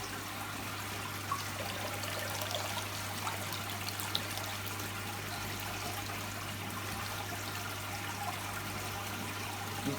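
Water pours steadily into a new aquarium, a continuous soft trickle and splash with a low constant hum underneath, moderately quiet and with no talking.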